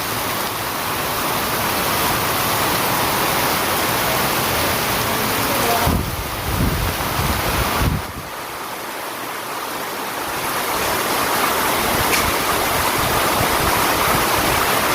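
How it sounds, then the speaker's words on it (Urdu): Heavy downpour in Khadimabad, Azad Kashmir, near a market street, a loud continuous hiss of pouring rain that briefly dips and shifts before returning at full strength. "اور شدید بارش ہے۔"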